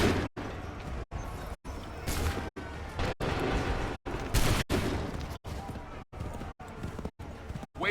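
A musket volley in Assassin's Creed 3 crackles as a dense, rolling burst of gunfire over battlefield noise, choppy and repeatedly cut by brief dropouts, with voices underneath.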